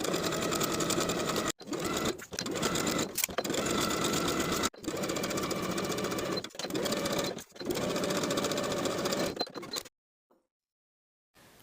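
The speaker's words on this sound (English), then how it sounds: "Sew all the way around, backstitching on either sides of the gap that you left." A sewing machine stitches around a dress piece in steady, close runs of fast mechanical whirring, briefly stopping between runs before falling silent at the end.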